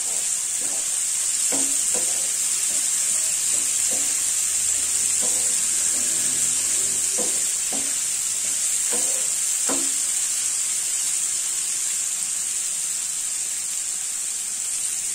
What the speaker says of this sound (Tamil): எண்ணெயிலேயே நல்லா ஃப்ரை பண்ணிக்கலாம்.